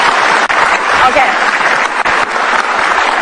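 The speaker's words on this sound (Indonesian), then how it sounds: "Ini dia teman Ahok, kita kasih tepuk tangan." Studio audience applauding on an Indonesian television talk show, a dense broadband wash of clapping that fills the whole stretch at steady loudness, with a host's brief spoken word over it.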